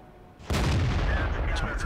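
In World of Tanks, a Jagdtiger 88 tank destroyer fires its gun in a sudden loud boom halfway through, and the blast rolls on with battle noise behind it.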